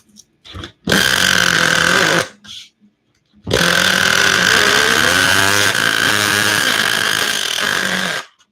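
The nitro engine of an RC10GT car revs loud and close on the bench, with two short blips and then two long high-pitched wailing bursts under throttle and a brief drop between them.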